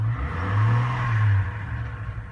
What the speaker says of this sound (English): It's a little throaty because it had an exhaust ripped off the back,